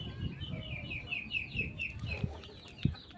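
Desi laying hens on a small farm, roaming with roosters and pigeons, cluck repeatedly in short low bursts nearby, with one sharper cluck near the end over a steady wash of high bird chirping.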